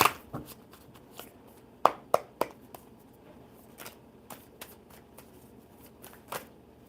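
Crisp, irregular riffling and snapping of shuffled playing cards, a few sharper slaps standing out, close by with no talking.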